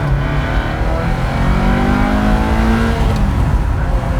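A 1990s Ferrari F355 engine accelerates hard under power, a loud, continuous rising mechanical howl with climbing harmonics and no talk.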